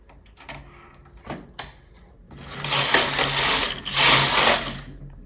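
A domestic knitting machine carriage runs across rows of thicker yarn in two loud, rushing mechanical sweeps, each lasting about a second, after a few quieter clicks and clunks.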